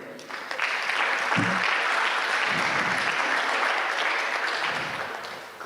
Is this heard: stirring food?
no